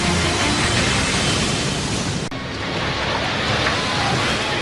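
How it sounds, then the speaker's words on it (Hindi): Heavy ocean waves from a tsunami, a loud continuous roaring wash of surf and churning water with no break, steady throughout. "ये वो लहरें हैं जो शहर के शहर तबाह कर सकती हैं।"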